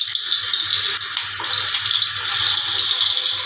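Chicken frying in hot oil in a kadai, a dense continuous hiss and crackle of bubbling oil, close and steady with faint scraping over a low hum.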